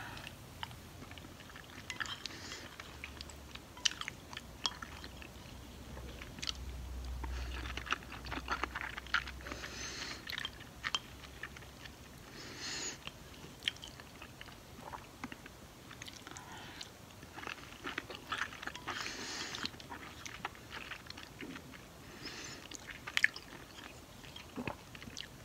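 Mac and cheese is chewed right up against the microphone in a quiet room, with soft wet bites and mouth sounds coming in irregular bursts throughout, close and intimate with no talking.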